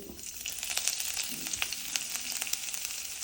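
Fenugreek seeds and ginger crackle in hot oil for a Kerala fish curry, a faint steady sizzle dotted with small popping spatters, no voices.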